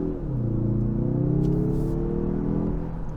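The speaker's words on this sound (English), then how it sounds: "This engine doesn't like to rev." 2021 Mazda 3 Turbo sedan engine pulling under acceleration, a close, steady droning rumble whose pitch climbs smoothly and evenly, heard alone without talk.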